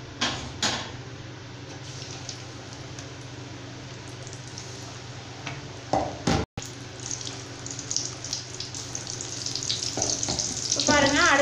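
Egg bondas deep frying in oil, tea-stall style, a steady close-up bubbling sizzle that runs the whole time, with a few clinks and a brief gap before the frying swells louder toward the end.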